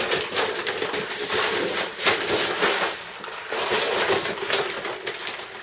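Electric grain mill grinding spelt grain for bread baking, giving a loud continuous whirring roar with a gritty, crunching texture that surges slightly as grain feeds through, close up and alone.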